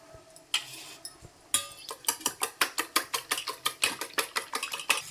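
Eggs with pepper are beaten in a bowl, starting with a couple of scattered taps and then settling into a fast, even run of sharp clinking strokes, close and clear.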